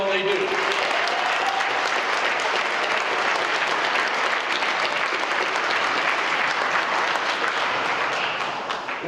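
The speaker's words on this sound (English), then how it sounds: "So let's give these guys a huge round of applause for all that they do." Sustained, dense audience applause fills the room for football players at Eastern Michigan University's 2015 Football Signing Day celebration, staying steady and loud throughout before easing slightly at the end.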